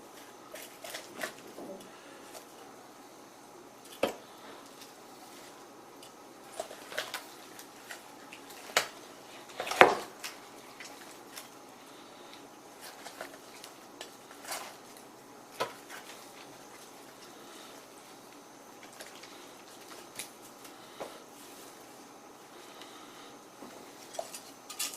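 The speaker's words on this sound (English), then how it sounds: "And we're going to cut right down," Knife cutting down along the bone of a roast holiday turkey carcass, giving scattered soft scraping and tapping sounds with one sharper click, close and quiet with no talking.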